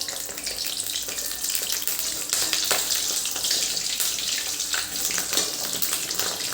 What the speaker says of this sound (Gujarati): હવે એમાં જ આપણે આ મરચાં પણ કાપીને તળી લઈશું.